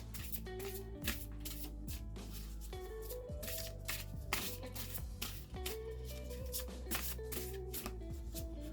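Oracle cards being shuffled by hand for a card reading, a steady soft riffling and sliding that runs throughout over background music, with no talking.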